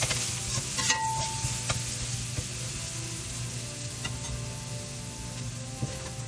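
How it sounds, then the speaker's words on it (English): Minced garlic and ground coriander seed sauteing in a pan for Egyptian molokhia, a soft continuous sizzle under a low steady hum, with faint scattered clicks and stirring scrapes throughout. "saute till golden brown."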